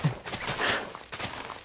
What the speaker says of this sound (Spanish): Unos cohetes y siguen los cohetes.